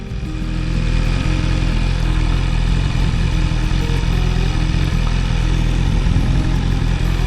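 A motorcycle engine drones steadily throughout, a constant low rumble with some rattle, heard from on the bike while riding.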